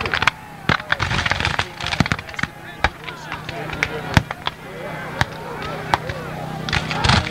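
A Civil War reenactment at Gettysburg, with scattered sharp musket shots cracking at varied distances, some loud and close and others distant, while people talk over the firing.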